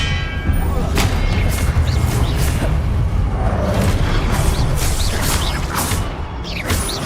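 Confringo blasting spell explosions in Hogwarts Legacy, a loud dense barrage of booming blasts and crackling bursts with metallic mechanical rattles, continuous and close.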